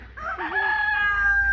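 A rooster crows once close by in a farmyard, a rising then long sustained call that fills most of the moment.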